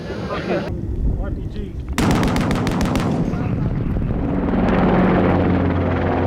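Rapid bursts of gunfire in Afghanistan crack close and loud, a fast volley followed by continuing heavy noise, with a rumbling engine droning underneath.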